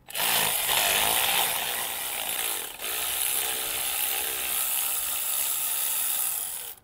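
A ratchet works loose 8mm Loctite-coated bolts on a Nissan Qashqai 1.2 engine during a timing chain job, producing a loud, steady mechanical whirring with one brief pause partway through and no voices.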